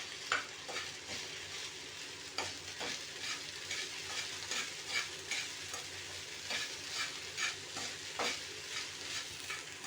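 Poha upma is fried and stirred in a pan, a quiet sizzle under repeated rhythmic spatula scrapes and soft knocks, steady throughout with no talking.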